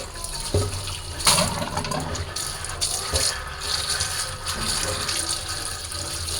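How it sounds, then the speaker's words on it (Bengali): Water running steadily from a tap while vegetables are washed, a continuous gushing splash with a few louder bursts and no voices. "প্রথমে আমি সবজিগুলো ধুয়ে নিই"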